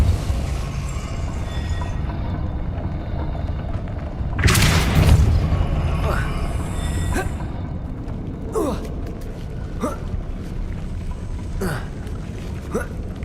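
A spell is cast in the video game Hogwarts Legacy: a sudden loud whooshing blast rises out of steady game ambience and is followed by a string of sharp, short magical zaps.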